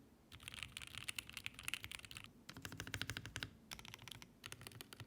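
Rapid typing on a 5000-hryvnia mechanical keyboard with linear switches and sound-dampening foam, a dense run of crisp key clicks with brief pauses between bursts, close and clear.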